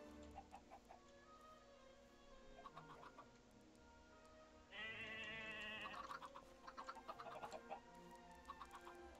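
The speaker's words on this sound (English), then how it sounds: "Good chickens." Chickens clucking in the video game Minecraft, faint repeated clucks over a steady game background, with a brief brighter burst of another creature's call partway through.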